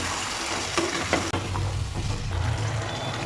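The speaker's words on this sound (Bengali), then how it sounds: "মশলা কষানো হয়ে গেছে। এরপর এর মধ্যে দিয়ে দেবো চানাগুলো।" Chickpeas are stirred and fried in a spiced masala of salt, cumin, coriander and Kashmiri chilli, giving a steady close sizzle with scraping stirs, loud and continuous throughout.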